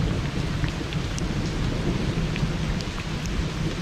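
Heavy unseasonal rain pours steadily onto surfaces while thunder rumbles low underneath, a loud continuous storm wash with scattered drop hits and no voices.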